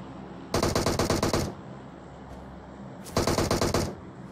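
DP-28 machine gun fire in PUBG Mobile on the Livik map, two loud rapid bursts of about a second each separated by a short pause, close and sharp, with no speech over them.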